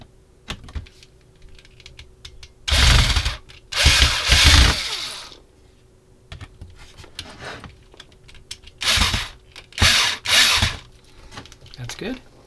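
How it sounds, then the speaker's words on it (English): A power screwdriver drives screws into a Thanos Infinity War Gauntlet model, in four loud whirring bursts arriving in pairs, separated by quieter handling clicks and taps, close up. "get them started. Power screwdriver again."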